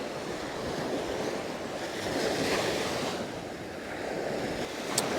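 Ocean waves wash onto Pattaya beach in Thailand, a broad steady roar of surf with a gentle swell in the middle, mixed with light wind buffeting the microphone and no talking.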